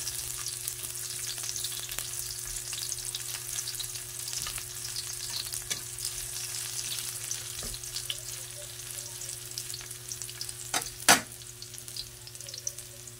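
Sautéing in a pan for squid adobo with water spinach leaves and dried fish produces a steady, close sizzling hiss throughout, with a brief louder clatter near the end and no talking.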